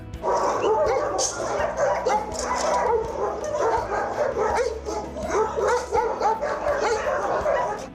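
A crowd of dogs at an animal shelter barks, yips and whimpers without pause, many voices overlapping into a loud, restless chorus.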